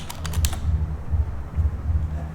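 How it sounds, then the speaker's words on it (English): Typing on a computer keyboard: a few crisp clicks at the start, then soft muffled keystrokes in an uneven rhythm over a low hum, fairly close. "chat support is typing"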